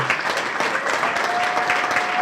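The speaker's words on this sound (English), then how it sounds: "can we give these people a round of applause for working on the weekend?" A weekend tech community gathering in New York gives a round of applause, steady dense clapping from the audience throughout, fairly close and loud.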